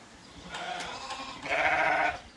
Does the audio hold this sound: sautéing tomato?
no